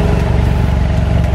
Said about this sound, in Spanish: Y este es el sonido original de la moto